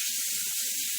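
A utensil being kashered hisses against a hot stove, a steady, loud, unbroken steam-like hiss lasting the whole moment.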